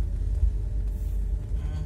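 Low, steady car engine rumble as a learner driver eases gently onto the throttle during a driving lesson, a smooth, continuous drone with no talk.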